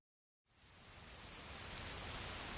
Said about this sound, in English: a mist of rain was falling across the asphalt